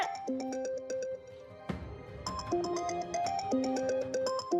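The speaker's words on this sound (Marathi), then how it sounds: "गोपाळ, तुझा फोन वाजतोय." A mobile phone ringtone chimes through a looping electronic tune, broken briefly by a short noisy bump before the melody resumes and carries on at an even, close level.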